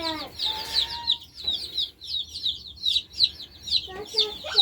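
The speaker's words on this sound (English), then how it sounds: "That's a chicken." Several chickens clucking close by in repeated bursts and short squawks, with a voice or two briefly in the background.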